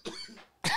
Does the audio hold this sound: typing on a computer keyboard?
no